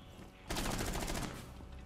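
Burst of rapid gunfire in Rainbow Six Siege, a dense, loud volley of shots that erupts suddenly after a quiet moment and rattles on for most of a second before easing off.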